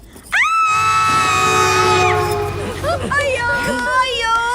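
Loud high-pitched screaming bursts out suddenly and holds for about two seconds in a movie scene set on a train, followed by excited shouting and wailing voices.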